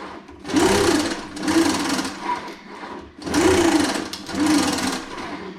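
Mechanical whirring of an Isoslide exercise machine during an upright row to shoulder press from a wheelchair, rising in two sets of repeated strokes with brief pauses between them, loud and close.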